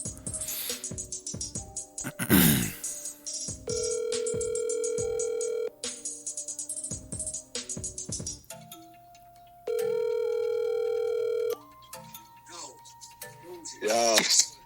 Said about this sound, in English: So we'll go ahead and make this phone call.